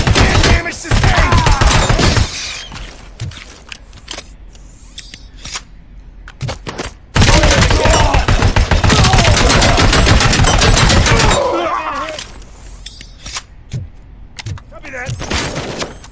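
Heavy automatic gunfire in the Robocop Rogue City video game, loud sustained bursts that stop and restart, with scattered single shots and clanks between them and a brief spoken line over the action.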